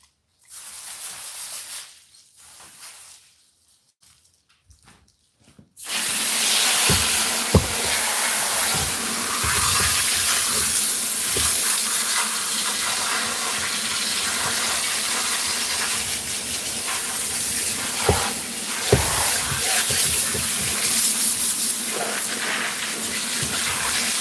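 A hose sprays water to rinse a pig carcass during an on-farm butchering day, a loud continuous hissing rush that starts abruptly after a few quiet seconds of faint trickling and runs steadily, with a few splashes and knocks.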